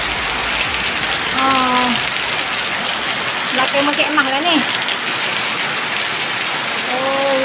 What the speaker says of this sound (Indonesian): Oh, hujan lebat.